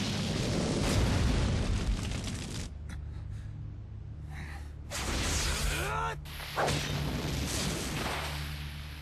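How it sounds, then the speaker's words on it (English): A loud, roaring fire blast from a Fireball Jutsu attack in Naruto Ultimate Ninja Storm Generations, with bursts of explosion over game music and a shouting voice, dipping briefly before more whooshing impacts. "Fire! Fireball Jutsu!"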